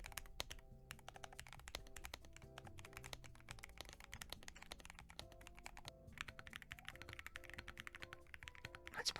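A computer keyboard is typed on rapidly and continuously, with crisp, close, even keystrokes at a moderate level and no talk.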